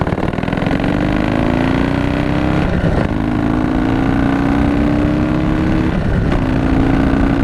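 A 2017 Harley-Davidson Heritage motorcycle revs hard through second gear, its loud engine note climbing steadily in pitch with brief dips at shifts or throttle changes, continuous and close with no talking.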